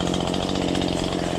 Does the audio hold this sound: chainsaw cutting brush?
yes